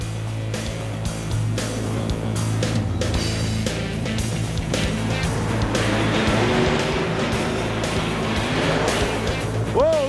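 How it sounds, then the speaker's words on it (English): Monster truck driven by a former female wrestler out of Tampa, Florida, its engine roaring loud and steady as it pulls the front end up into a wheelie, with an announcer talking over the noise. "Look at a wheelie from Madusa. Pulls that front end way up."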